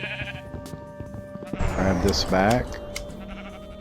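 Sheep bleating in Minecraft while being sheared, a short series of wavering bleats rising over faint game ambience, with someone briefly talking beforehand.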